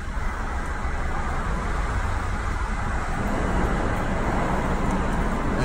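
Steady road rumble from a car in motion on the highway during a one-hour commute, a constant broadband drone with no breaks and no voices.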